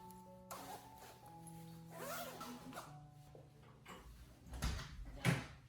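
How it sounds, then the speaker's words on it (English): A clothing zipper slides along its track in a few soft rasping strokes, close and fairly quiet, with faint clicks from the slider and no talking. "your zipper will slide as smoothly as new in just seconds"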